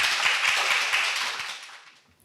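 Audience applause at a university agreement-signing ceremony in a hall, a short burst of steady clapping that fades out over about two seconds.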